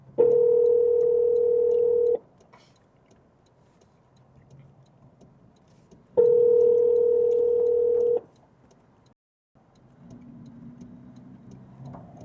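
Telephone dial tone for an outgoing business cold call: two steady tones of about two seconds each, separated by a quiet gap of about four seconds, with faint low background hum between them and no talking.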